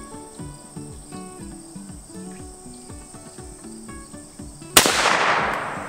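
A single loud gunshot from a rifle with little recoil, fired outdoors, cracks sharply near the end, its blast trailing off over a steady background of chirping crickets and insects.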